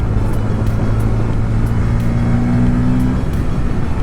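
A car engine drones steadily on a long highway drive, with a sustained low throttle note that holds and then shifts pitch near the end. There is no talk.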